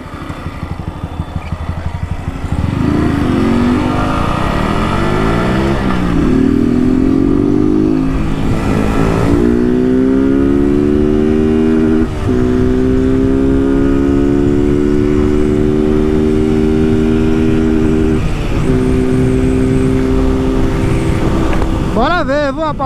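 A Honda Start 160 motorcycle engine, modified with a 16-tooth sprocket, cam and no air filter, idles and revs up repeatedly, its pitch rising and holding in long pulls, loud and close, with a voice faintly underneath.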